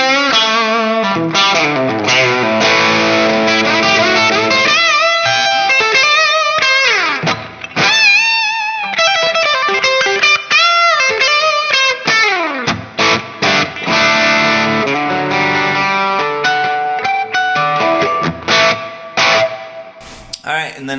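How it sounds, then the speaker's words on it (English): A 1968 Gibson ES-335 on the bridge pickup plays crunchy distorted chords and short riffs, loud and continuous, with brief pauses between phrases. "Really nice crunch tones."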